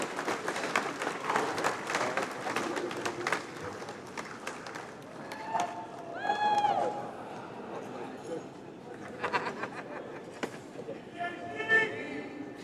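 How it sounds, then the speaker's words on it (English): Audience at an awards banquet clapping in a big round of applause, dense and moderately loud at first, then thinning, with voices and a whistle-like tone breaking through toward the end. "Great, a big round of applause."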